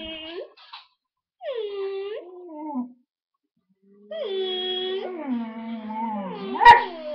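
A dog howls up close in several drawn-out, wavering cries with short yips between them. Quiet stretches separate the howls, and a brief sharp sound cuts in near the end.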